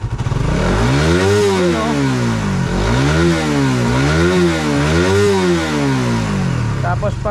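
Motorcycle engine with its RPM adjusted up to 11, revved hard three times in rising-and-falling sweeps, loud and close, with a brief spoken remark near the start.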